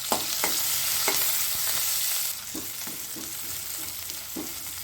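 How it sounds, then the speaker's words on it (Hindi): Onions and green chillies fry in hot oil with a bright, hissing sizzle that drops in level partway through, while a spoon stirs them in a series of rhythmic scrapes. "अब मैं अनियन और ग्रीन चिली जो मैंने ली थी हरी मिर्च डालकर गोल्डन ब्राउन कलर होने तक फ्राई करूँगी"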